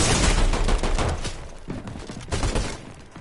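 Rapid gunfire in the Fortnite video game, a dense burst of overlapping shots that thins into scattered cracks, loud and close, with no talking during the shooting.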